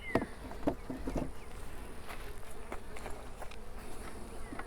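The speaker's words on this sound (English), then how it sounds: "I'm just knocking the bees off of this frame." Honey bees hum and buzz steadily around an opened hive while frames are inspected, a dense close drone with a few sharper bursts and light knocks near the start.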